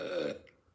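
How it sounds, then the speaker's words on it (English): A single loud, low burp bursts out close by for about a third of a second, then trails off into near silence. "Belated burping."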